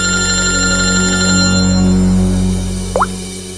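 A brief electronic ring chirps near the end over a steady low hum and background tones, close and fairly clear.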